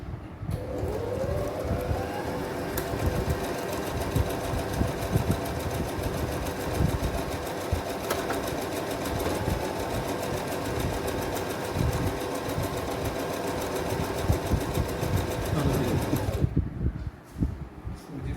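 Brother GS 3750 sewing machine stitching at a steady fast whir with a rapid mechanical rhythm, running continuously and close up before stopping abruptly near the end.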